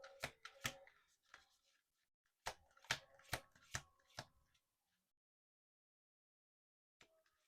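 A deck of slick oracle cards is shuffled on a table in two quick bursts of sharp, crisp riffling slaps close by, separated and followed by silence.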